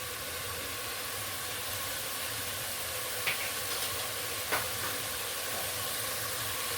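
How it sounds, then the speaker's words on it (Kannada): Turmeric and biryani powder frying in oil in a pan, a steady close broadband hiss of sizzling that runs evenly throughout, with a couple of faint clicks and no speech. "ಇವಾಗ ಅರಿಶಿನ ಮತ್ತು ಬಿರಿಯಾನಿ ಪೌಡ್ರ್ ಹಾಕಿದ್ದೀನಲ್ವ, ಸ್ವಲ್ಪ ಚೆನ್ನಾಗಿ ಫ್ರೈ ಮಾಡ್ಕೋಬೇಕು"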